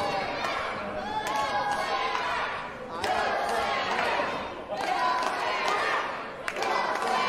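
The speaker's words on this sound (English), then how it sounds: "Elements on our crowd chanting "Go Slammer!"" A wrestling crowd at an indoor event chants and cheers in rhythmic swells, a dense roar of voices with a commentator talking over it.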